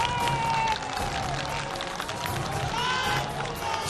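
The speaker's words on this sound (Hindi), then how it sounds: "सहजानंद राय साहब, प्रवक्ता बीजेपी के, तालियों के साथ स्वागत कीजिए।" A studio audience at an Aaj Tak political debate show applauds in a dense, steady wash of clapping welcoming a BJP spokesperson, with a voice speaking over the continuous applause.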